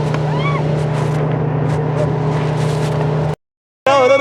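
A high-speed motorboat drones loudly and steadily with a strong low engine tone and water rush, sound briefly cutting out near the end before resuming with voices and whistling tones.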